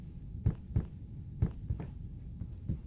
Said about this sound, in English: It sounds like a heartbeat and it's throwing me off.